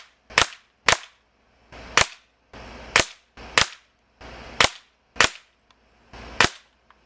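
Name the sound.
Beeman Raider PCP air rifle firing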